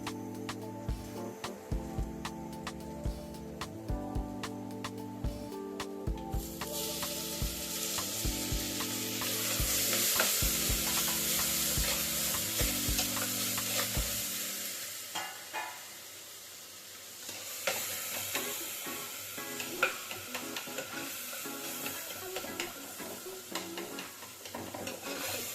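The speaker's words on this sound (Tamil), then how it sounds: "நெக்ஸ்ட்டு தக்காளி போட்டு வதக்கிக்கலாம்" Tomatoes sautéing with softened onions in a pan for a village-style Tamil sheela fish curry, a steady sizzle that swells louder midway and then settles under faint background music.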